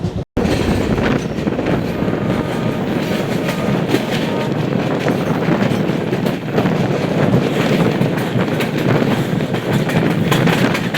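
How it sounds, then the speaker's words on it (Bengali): The Howrah–Guwahati Saraighat Express (12345) runs on the rails near Kamakhya Junction, a loud, close, continuous rumble with rattling wheel clatter and wind buffeting the microphone, with no talking. "ট্রেন একদম রাইট টাইমেই ঢুকে গেছে কামাখ্যা জাংশনে।"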